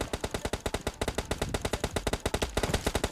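Rapid gunfire in the mobile shooter PUBG Mobile Lite, dense bursts of sharp shots in fast irregular rhythm, loud and close, with no talking.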